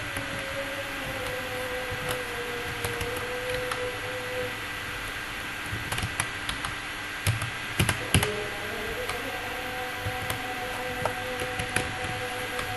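Numbers typed into a spreadsheet on a computer keyboard: scattered, irregular key clicks over a constant low hum and background noise, a few louder clustered taps near the middle, no voices.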